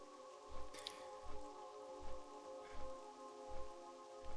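Rain in the fantasy video game World of Warcraft Cataclysm, a soft steady patter on surfaces with drips, under a faint sustained musical hum and evenly spaced low thumps.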